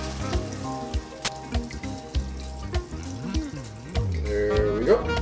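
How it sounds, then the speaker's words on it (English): Vegetable stock poured from a carton into a pot of sauteed potatoes, a gurgling liquid stream with glugging pulses and splashes, close and moderately loud, ending with rising splashy sounds. "we're gonna add 1 quart of veggie stock"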